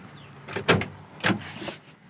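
A 1979 Camaro Z28 car door opens with two quick mechanical clunks about half a second apart, close by in an otherwise quiet space.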